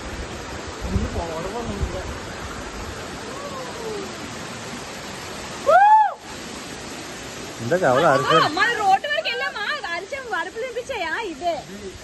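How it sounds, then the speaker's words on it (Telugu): A small waterfall rushes with a constant broadband roar, while several people talk and shout nearby over the water noise. "ఇదే అనమాట వాటర్ ఫాల్ చాలా చిన్నదే"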